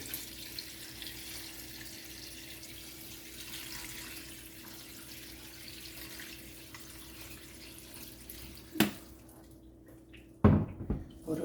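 Water runs steadily from a tap into a pot for kimchi bean sprout soup in a home kitchen, a soft continuous splash that ends with a couple of clunks.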